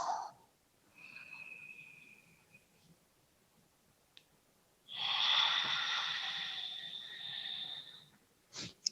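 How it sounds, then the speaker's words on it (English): Breath during a yoga stretch comes through close and soft. Two long, airy breaths are separated by quiet pauses, with a faint click at the end. "Really listen to that sound of your own breath."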